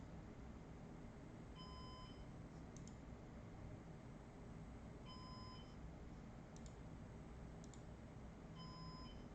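A computer gives short repeating beeps in groups about every three seconds while its drive fails to connect, faint and steady over a constant hiss of background noise.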